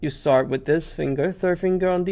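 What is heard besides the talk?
No everyday noise stands out behind the speech.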